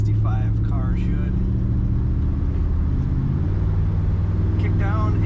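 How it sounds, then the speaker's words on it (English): A 1965 Mercury Monterey convertible with an automatic transmission kicks down under acceleration, a low droning engine rumble swelling steadily under intermittent talking, with the engine note rising through the middle. "Kick down is working on that transmission."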